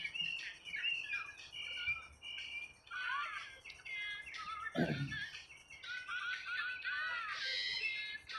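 Small birds chirp and tweet in quick, bright bursts throughout a sunrise morning in downtown Las Vegas, fairly close and steady, with a brief low thump midway and light background hum.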